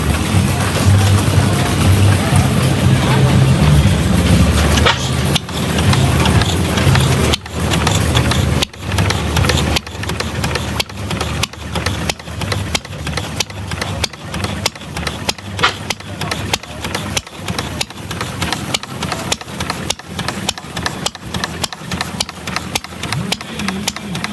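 A hit-and-miss engine fired by a Model T coil and a small 6-volt battery, with a Singer sewing machine wheel as its flywheel, thumps out irregular firing pops over a steady running chug, close and loud throughout.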